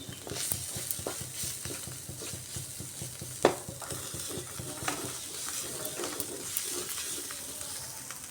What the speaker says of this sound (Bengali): মশলাটা খুব সুন্দর ভাজা ভাজা হয়ে এসছে ঝরঝরে হয়ে গেছে